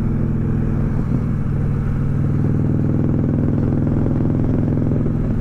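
Steady motorcycle engine drone while riding fitted with new KST Comanche handlebars, a loud continuous close-up rumble with low harmonic throb and wind noise, no talk.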